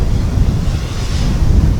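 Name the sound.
strong wind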